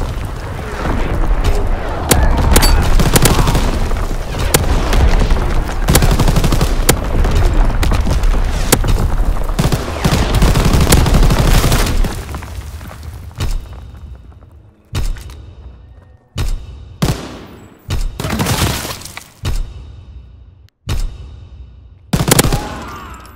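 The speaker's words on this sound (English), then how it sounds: "Firing primary battery." A warship's primary battery fires in a Call of Duty game: a dense, loud barrage of booming shots rolls continuously, then gives way to separate heavy blasts spaced a second or two apart.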